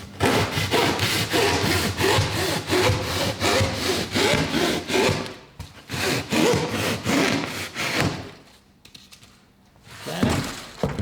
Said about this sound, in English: I just use a little handheld saw like this